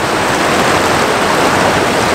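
Rapids at Elk River Falls pour over slick rock in a dense, steady, loud rushing roar of whitewater, close by and unbroken, with no voices.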